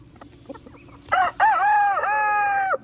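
Sisu, a rooster, lets out one loud crow close by in a backyard coop during Saturday morning chores. The crow is drawn out and harmonically rich, with quiet clucking and rustling just before it.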